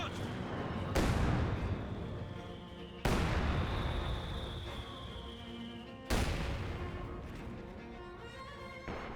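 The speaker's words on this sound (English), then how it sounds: "More mortar hits over here." Three heavy booming impacts land about three seconds apart, each a loud crack followed by a long rumbling decay, mortar shells hitting nearby in Company of Heroes 2.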